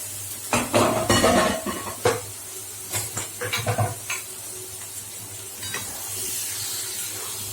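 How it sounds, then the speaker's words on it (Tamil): Half a kilo of cleaned prawns is stirred in a hot pan. A spoon clatters and scrapes against the metal in bursts over a continuous frying sizzle and hiss. "ஒரு அரை கிலோ எறா இருக்கும் சேர்த்துட்டேன்"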